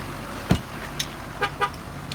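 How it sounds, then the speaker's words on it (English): A short horn toot from a 2018 Ford F-250 pickup sounds once nearby, warning that the key is not inside, followed by a few faint chirps and clicks. "Yep, it honks at you"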